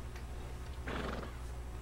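A horse in Red Dead Redemption lets out one clear, loud whinny midway, set against steady low game ambience with a faint hoof clip-clop.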